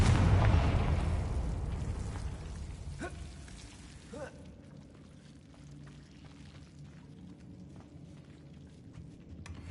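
A Confringo spell bursts in Hogwarts Legacy, a loud explosive blast at the start that rumbles and fades over several seconds, followed by a few sharp pops and quieter crackling debris.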